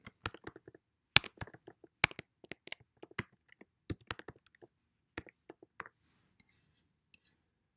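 Typing on a computer keyboard in a simple word processor window, a quiet, irregular run of separate key clicks and taps with short pauses, one or two louder strikes, alone without speech.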